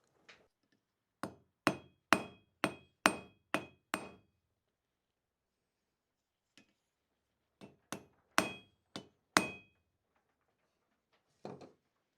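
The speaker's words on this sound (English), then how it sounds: "take a hammer and hit on it just to snug it up so it stays in place" A blacksmith's hammer strikes a rivet to snug it in place on a hand-forged dragon candle holder, sharp metallic blows in two quick bursts of about six each, separated by a pause with a single light tap.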